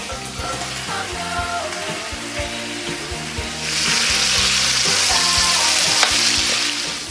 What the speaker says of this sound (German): So, als erstes braten wir den Blumenkohl an.